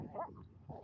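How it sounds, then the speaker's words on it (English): A dog gives a short, faint bark with a slight whimper, heard briefly from a distance outdoors on a dry farm field. "Apologise for the dogs."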